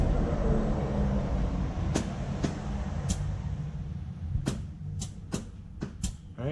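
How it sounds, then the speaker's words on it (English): Loud vehicles passing on a nearby road, a continuous low rumble from traffic going by, with several sharp clicks and taps over it. "where's my loud ass vehicles driving by?"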